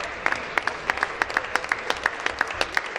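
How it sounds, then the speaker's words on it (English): Applause breaks out in a legislative chamber, a modest group of hands clapping with distinct, fairly regular claps rather than a dense roar, steady from start to finish. "So let's give him a round of applause,"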